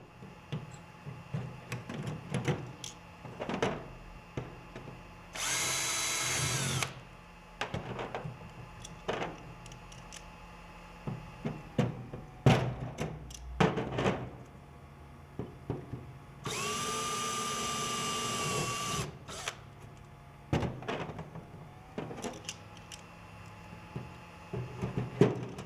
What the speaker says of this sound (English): Drill the holes in the doubler and then use it as a template to drill the holes in the panels.